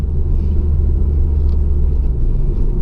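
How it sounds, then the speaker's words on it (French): Renault Mégane 3 RS driving with a steady, loud low engine rumble and exhaust drone heard from inside the cabin, no distinct dump valve burst standing out. "On a vraiment le bruit de l'échappement, de la ligne et de la dump valve."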